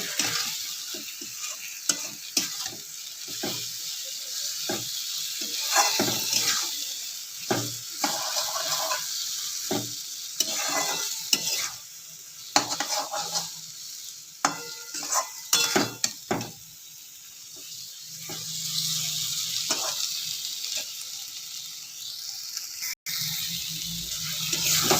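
Chilli and coriander powder sauté in hot oil for a prawn and potato curry. A spoon scrapes and stirs in repeated strokes through a continuous close sizzle, and nobody speaks.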